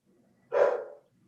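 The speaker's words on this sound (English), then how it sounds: "There goes my dog." A pet dog gives a single short, sharp bark close by, with near silence before and after.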